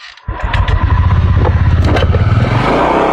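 A motorcycle engine starts up close by and settles into a loud, rumbling idle with a few clattery knocks.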